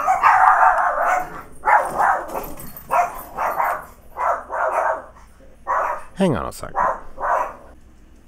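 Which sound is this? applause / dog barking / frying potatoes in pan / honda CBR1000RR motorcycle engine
dog barking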